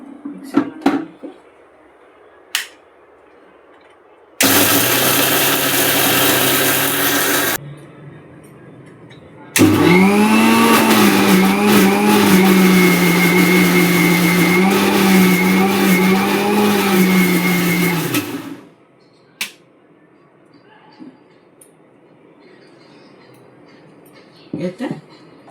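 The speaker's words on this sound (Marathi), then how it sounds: "आता हे मी मिक्सरला लावून घेते" A kitchen mixer grinder blends spinach and moong dal with a little water into batter, roaring in a short loud burst and then a longer steady run, with quiet pauses and small clatters around them.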